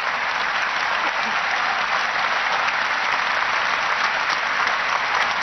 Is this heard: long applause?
yes